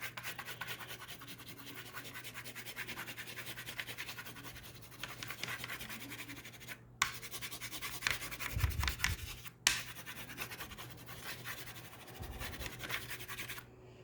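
A broken brown crayon scraped lightly across paper while colouring a sunset beach landscape, a soft continuous scratchy rubbing up close with a few short breaks.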